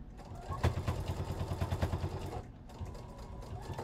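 A sewing machine back-stitches across a thrifted vest and its lace panel, running in a steady rapid mechanical patter with one brief pause before resuming, close and fairly loud.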